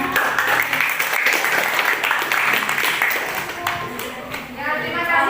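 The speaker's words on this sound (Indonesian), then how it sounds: "kita tepuk tangan yang" Classroom applause from students for a discussion group presentation at a junior high school; a fairly loud burst of clapping that runs the whole span, slightly dipping near the end, with some voices mixed underneath.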